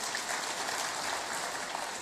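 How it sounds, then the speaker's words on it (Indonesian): Brief applause from an audience at an Indonesian government event, a short burst of soft, dense clapping that sounds fairly distant. "Tepuk tangan buat Pak Kodari."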